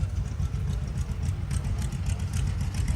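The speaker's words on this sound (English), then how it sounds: "here we have a John Deere garden tractor, and it's a 1965" A 1965 John Deere model 110 garden tractor idles at a farm heritage show, its engine a steady, loud low rumble that runs without a break throughout.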